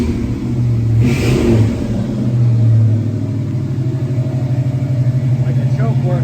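A 1969 Pontiac Firebird convertible's engine runs close by at a high choke idle, rising briefly in a rev before settling into a steady rumble, with someone talking over it.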